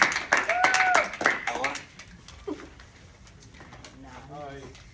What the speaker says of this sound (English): clap it up for Brandon, y'all